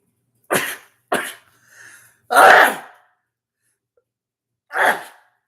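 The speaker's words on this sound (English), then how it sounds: "I apologize for the sneezing." A run of sharp, explosive sneezes, four loud bursts spaced irregularly with a soft breathy sound between, close and clear with no talking.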